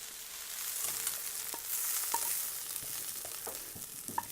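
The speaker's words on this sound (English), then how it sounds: "Sauteed this down, we're going to go ahead and take them back into their bowl so that we can" Ground pork and beef browning in a pan, giving a steady, soft sizzle with faint scattered pops and light stirring, alone without talk.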